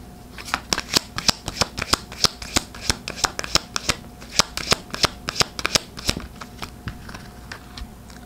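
A deck of tarot cards is shuffled by hand in a series of crisp, rapid riffling snaps and slaps, close and clear, with brief pauses between bursts.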